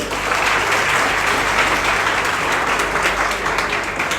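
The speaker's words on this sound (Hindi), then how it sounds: "तालियां बजाइए इनके लिए" Warm applause for a student's NEET exam result at a coaching class gathering fills the whole clip, a dense, even patter of many hands clapping close by without letup.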